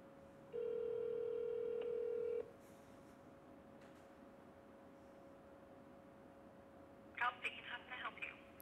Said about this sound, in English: I'm gonna give them a call.